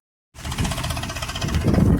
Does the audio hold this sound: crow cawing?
no